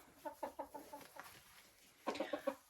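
A hen that lays blue eggs clucks in a backyard chicken coop, a run of short close clucks followed by a louder burst of rapid clucking near the end.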